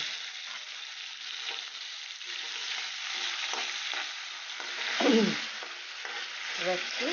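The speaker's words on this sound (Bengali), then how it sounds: "আমি এখন তেলের মধ্যে দিয়ে দিচ্ছি। দিয়ে এটাকে একটু ভেজে নেব।" Prawns fry in hot oil with a continuous close sizzle, broken by occasional stirring scrapes and a few brief squeaky sputters; no talking.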